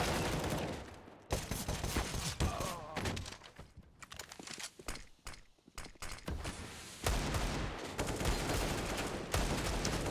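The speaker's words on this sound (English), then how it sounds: "He was able to fire way too many bullets to the Deagle there." Desert Eagle pistol fire during a professional Counter-Strike match on Dust2, with rapid bursts of shots and clicks over busy game noise that cuts in and out.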